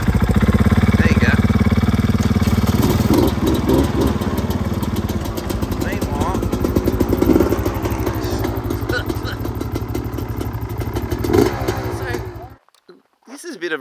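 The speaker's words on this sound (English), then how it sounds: "Do you want to start the bike again?" A KTM 500 EXC adventure motorcycle idles loudly and close with a steady, rapid single-cylinder putter, running for about twelve seconds before it cuts out to near silence, while people talk over it.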